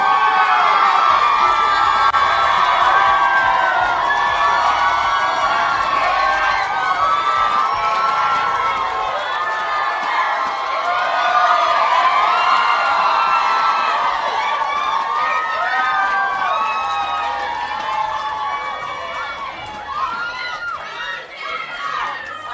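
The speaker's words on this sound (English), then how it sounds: "You need to cheer louder for them to come out." A large crowd cheers and shouts continuously, with whoops and excited voices rising and falling, loud and sustained.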